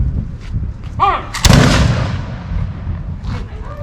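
Soldiers in a Revolutionary War-era drill fire a single musket volley: one sharp, loud crack with a rolling echo that fades over about two seconds, preceded by a brief shouted command and faint crowd murmur.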